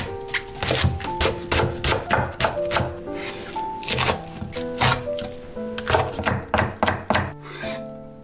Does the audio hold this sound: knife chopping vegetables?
yes